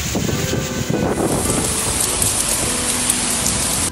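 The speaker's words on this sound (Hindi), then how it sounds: "कराची में दिन चढ़ने से पहले ही बादल बरस पड़े।" Heavy rain in Karachi pours steadily and loudly, a dense hiss of drops on surfaces with no voices present.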